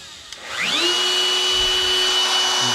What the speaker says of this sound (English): so I'm going to go ahead and turn my router on.